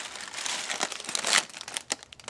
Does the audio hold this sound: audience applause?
no